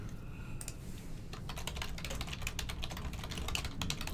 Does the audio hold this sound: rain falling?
no